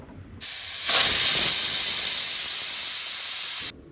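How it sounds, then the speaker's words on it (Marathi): A pressure cooker cooking soybean rice vents a loud, sustained hissing steam blast that starts abruptly, swells, then holds steady for about three seconds before cutting off. "मस्तपैकी मिक्स करून आम्ही डायरेक्ट कुकर शिट्टीला ठेवलो"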